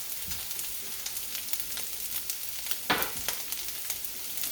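Onions fry in a pan for turmeric fried rice with ham, giving a continuous close sizzle with scattered crackles and one sharper burst of spattering, with no voices.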